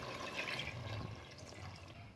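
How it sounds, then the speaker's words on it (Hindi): Water poured into a pot of browned mutton with fried onions for a Hyderabadi black pepper curry, a steady, soft splashing rush that carries on without a break and fades a little toward the end. "अब मैं ये गोश्त गलने के लिए थोड़ा पानी डालूँगी।"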